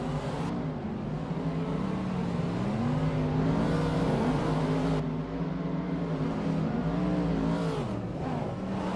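Several cars drift in tandem at a drift playground, a tan Mazda RX-7 among them, their engines droning and wailing with rising and falling revs that overlap continuously, loud and fairly close.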